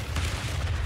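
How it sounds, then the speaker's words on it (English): Mortar shells landing in a Battlefield-style infantry shooter, a brief deep rumbling boom with a low roar that stays loud and steady throughout, no voices. "Mortars are coming!"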